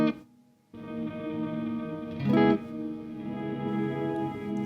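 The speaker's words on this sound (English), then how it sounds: "So you get this totally different, almost more like a delay sound" A guitar note rings through an EarthQuaker Devices Afterneath reverb pedal, with repeating, echoing tails that sound almost like delay, swelling briefly midway before sustaining.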